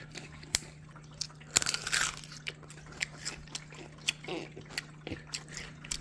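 Several crisp, crunchy bites into a juicy hydroponically grown cucumber and wet chewing sounds come in bursts over a low steady hum, close to the microphone, with no talking.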